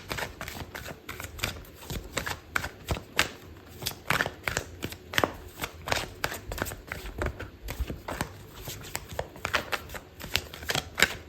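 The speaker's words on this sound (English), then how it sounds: "I'm going to pull out another card for you." A tarot deck is shuffled up close, giving quick, repeated papery riffles and crisp card slaps in an irregular rhythm, with no voices.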